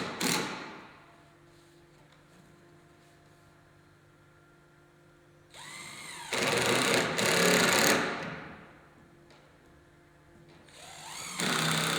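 A power drill drives 8 x 2 inch stainless steel screws through gazebo handrails into the posts. A steady background hum is broken by a long whirring burst midway and a shorter one at the end.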